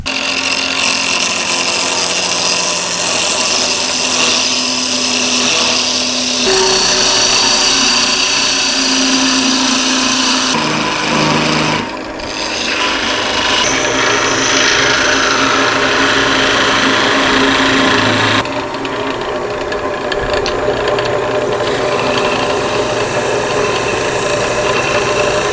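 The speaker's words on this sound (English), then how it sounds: "next step and last step on the lathe is to cut it off" A wood lathe parting off a turned eyeglasses holder, giving a loud, steady whirring drone of spinning stock and cutting tool that shifts in pitch and texture several times, with no talking.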